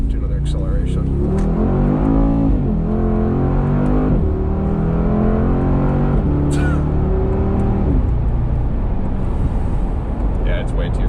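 A Mercedes-AMG G63 in Sport Plus mode roars through a hard acceleration, its side pipes climbing through several rising engine sweeps with gear-change breaks and a pop near the end. It is loud and close throughout, with talk over it.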